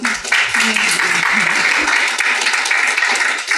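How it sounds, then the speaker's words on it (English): Audience at the App Promotion Summit NYC, a conference talk, applauding in a dense, steady wash of clapping that fills the whole stretch, with a voice briefly heard over it. "I think a round of applause for these two."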